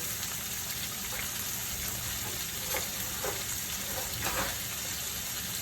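Shrimp fry in butter and olive oil over high heat with a steady, dense sizzle and crackle, loud and continuous, with faint stirring scrapes underneath.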